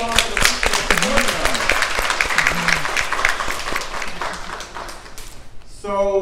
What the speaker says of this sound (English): Give a round of applause to the people.